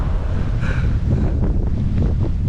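Strong coastal headwind roars into the microphone while cycling, a loud, constant buffeting rumble with gusty swells and no voices.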